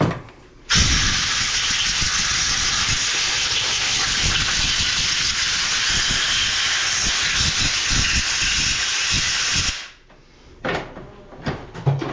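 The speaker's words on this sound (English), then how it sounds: "Turn the air compressor on." Compressed air from an air compressor blasts loudly and steadily for about nine seconds, cleaning tie rod cylinder parts of a CAT 402DIT during a seal replacement, then cuts off, followed by a few light clatters.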